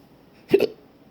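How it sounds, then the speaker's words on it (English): A single sharp hiccup, close and loud, from someone in bed with persistent hiccups that have gone on for hours, breaking an otherwise quiet room. "20 hiccups per minute."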